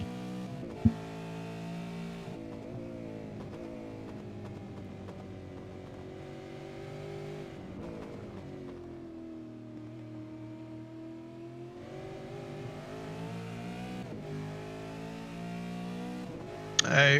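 V8 race cars in a sim racing game during a Road Atlanta round roar steadily at high revs, with the engine pitch sweeping up and down through gear changes. The sound is continuous, close and loud, with no voices.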